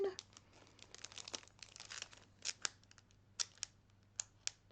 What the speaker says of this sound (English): I will open her card and show you the inside.